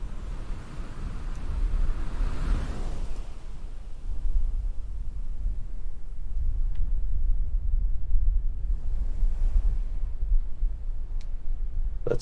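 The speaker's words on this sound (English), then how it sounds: "So we have coastal winds." Coastal wind soundscape from a myNoise generator, a steady low rumbling roar with soft whooshing swells, continuous and fairly loud with no voices.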